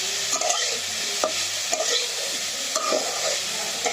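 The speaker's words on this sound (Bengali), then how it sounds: "মশলাগুলো যেন সব জায়গায় লেগে যায়, যার কারণে বেশ সময় ধরে নাড়াচাড়া করে দিচ্ছি" Spiced cauliflower frying in a pan, a continuous sizzle broken by repeated scraping and clacking strokes as it is stirred, close and clear with no voices.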